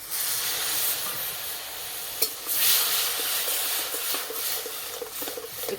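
Sugarcane jaggery with a splash of water sizzles in a wok, a steady hiss and bubbling with occasional sharp clicks of stirring, close up and without speech.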